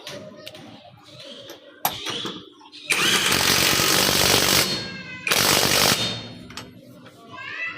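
A cordless DeWalt/Tianc impact ratchet loosening a bolt hammers loudly in two bursts of rapid impacts, each lasting a couple of seconds, with a few clicks and short pauses between them.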